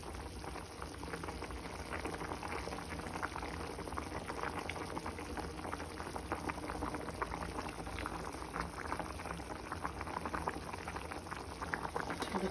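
Fish curry simmering in a pot: a steady, close bubbling and gentle sputtering boil that holds at a constant level throughout, with no speech.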